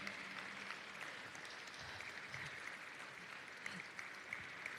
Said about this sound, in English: Let's do a Hall of Fame applause again for our fine president.